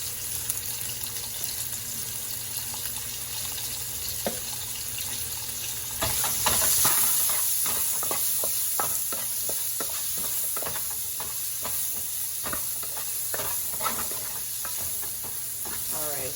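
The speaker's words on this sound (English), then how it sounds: "I'm just gonna fry this up for a few minutes" Seasoned food, dusted with seasoning salt and Italian seasoning, fries in a pan for stuffed-pepper filling, a steady sizzle broken by scattered clicks and scrapes of stirring, close and moderately loud, with no talk.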